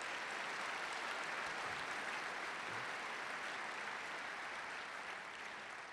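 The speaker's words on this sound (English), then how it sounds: "If we could just have a round of applause for these folks." Steady, dense applause from an audience at a lecture event, thanking sponsors, sustained and even throughout with no talk over it.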